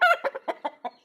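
A rooster, a prized fighting bird, clucks close by in a quick run of about six short, throaty bursts, the first longer and louder, with no voices.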